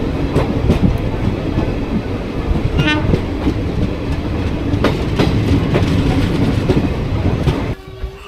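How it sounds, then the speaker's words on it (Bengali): Bagh Express passenger train rolling into Mayerba station after a long overnight run, a steady loud rumble and clatter of carriages throughout, with a brief horn toot near the middle and the noise dropping off abruptly at the end. "আমাদের ট্রেন এই মুহূর্তে মায়েরবা স্টেশনে এসে পৌঁছলো"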